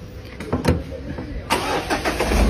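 A Mitsubishi Pajero Exceed with an automatic diesel engine cranks and catches about halfway through, then settles into a steady, close rumbling idle.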